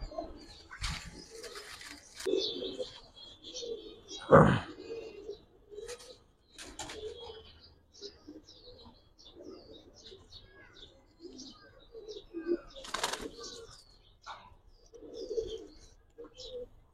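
A female pigeon coos softly in a few low, spaced calls, with people talking nearby and occasional handling bumps and a sharp rustle close by.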